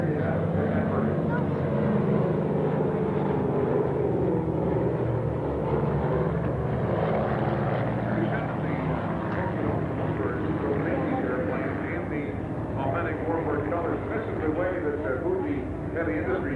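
Fuji propeller aircraft at an airshow break overhead and circle to land, a steady droning engine rumble that holds throughout under someone talking continuously over the crowd noise.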